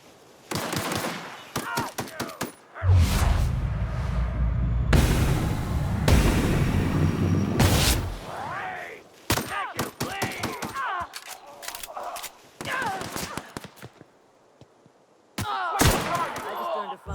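Sci-fi video game gunfire from The Outer Worlds comes in rapid bursts of shots between quieter gaps, with a few sustained louder stretches and some game sounds in between.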